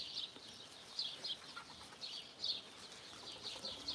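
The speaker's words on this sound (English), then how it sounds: "our chicks have grown up, feathered out" Young chickens, recently feathered out, chirping in short, high, repeated bursts with a few faint flutters, soft and fairly close in a quiet coop.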